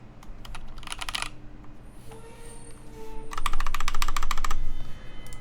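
Lubed MX Black switches clatter in two quick bursts of rapid keystrokes, close and clear over a faint steady hum, with a lone higher tone between the bursts.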